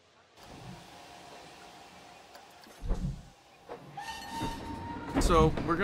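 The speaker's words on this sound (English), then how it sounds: "I think we should take the train." Train in the theme-park game Planet Coaster, starting quiet then building into rolling rail noise with clanks, a whistle-like tone and screeching wheel squeals toward the end.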